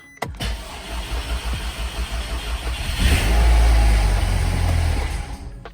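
A 2012-2014 VW Golf R engine with 291,000 miles cranks briefly, then catches and settles into a steady low idle rumble, close by with no talking.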